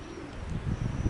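Pigeons coo softly at a loft on a windy, overcast day, a low rolling call that grows slightly louder toward the end over a faint background hiss.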